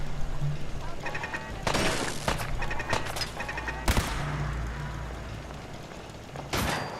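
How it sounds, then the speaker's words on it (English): Raiders assaulting Bunker Hill in Fallout 4 Far Harbor, with bursts of gunfire cracking over a dense game soundscape; a few sharp shots stand out against steady background noise and ambient effects. "Who's shooting?"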